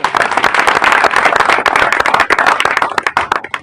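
Parents at a coaching institute event in Shivhar, Bihar, give a loud burst of dense crowd clapping close by, holding strong for about three seconds before tapering off at the end.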